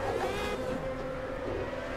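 A Pagani supercar engine in the racing game Project Cars gives a short, moderately loud, steady high-pitched whine as the car drives, with no talk.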